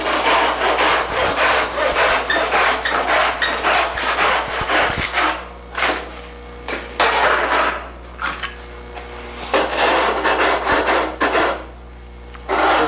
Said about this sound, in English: Let's remove some excess foam here.